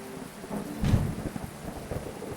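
Rain falls steadily in a video game, with a low rumble of thunder swelling near the middle of the short stretch and then fading back into the soft, continuous patter.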